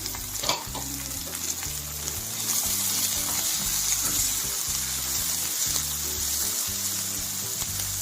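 Chopped onion sizzling in hot oil for a mushroom and raw cashew curry, a steady crackling fry with faint stirring and scraping, close up and alone.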